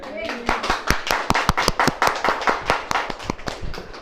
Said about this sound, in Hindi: अरे ताली वाली बजेगी कि नहीं?